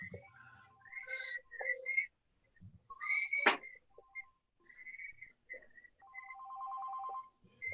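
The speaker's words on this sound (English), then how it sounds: "Oh, somebody better answer the phone." A telephone rings in repeated electronic trilling bursts nearby, with faint bird-like chirps and background sounds between the rings.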